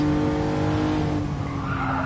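A race car slides with sustained tyre squeal over a steady engine drone in Gran Turismo Sport, loud and continuous for about two seconds.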